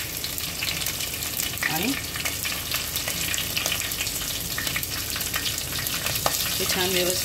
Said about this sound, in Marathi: तेल आपलं छान तापलं आहे। आता आपण याच्यामध्ये 2 हिरव्या मिरच्या ज्यामध्ये कापून घेतल्या त्या टाकूया,